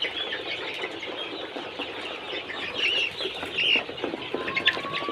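Brown chickens cluck and chatter while being fed at midday, a busy layer of overlapping clucks and a few sharper calls, fairly close and steady.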